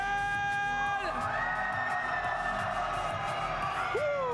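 A large esports crowd at a VALORANT Masters Santiago playoff match roars and cheers, a loud sustained wall of voices with rising shouts and whistles, while an announcer calls out over the noise.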